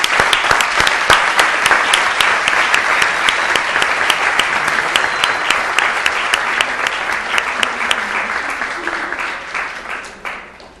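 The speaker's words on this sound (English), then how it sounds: "Please join me again in one more round of applause." Loud applause from the audience at a city council and housing authority meeting, many hands clapping steadily before gradually thinning and fading out.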